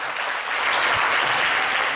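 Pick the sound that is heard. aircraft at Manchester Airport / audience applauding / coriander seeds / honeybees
audience applauding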